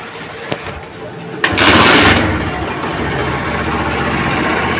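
A 70cc motorcycle with a white-smoke problem cranks and fires up, then settles into a steady buzzing idle. A burst of revving marks the start, then the engine runs on evenly, close by.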